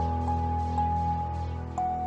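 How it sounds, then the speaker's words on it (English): A bare music box, played without tape on it, plinks a few sparse, bright notes in a slow rhythm over a steady low hum, close and fairly quiet. "So it's a music box, and it normally sounds like this without the tape on it."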